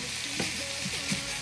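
Ground meat browning in a pan for chili, giving a continuous close sizzle with a couple of brief scraping stirs, no talking.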